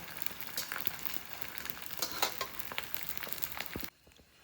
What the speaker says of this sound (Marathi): जास्त तूप टाकून ह्याला तळायचं, म्हणजे कच्चा राहत नाही